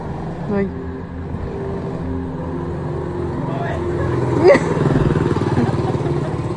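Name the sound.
mini motorcycle engine running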